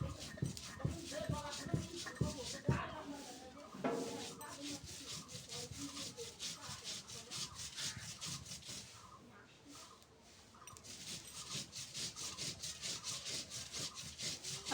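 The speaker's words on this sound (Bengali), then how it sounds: "এবার এটা আমি পাটায় বাটবো।" Dried shrimp mash being ground by hand on a stone pata slab, a steady rhythmic scraping and rubbing of stone against stone, close up, with a voice talking now and then.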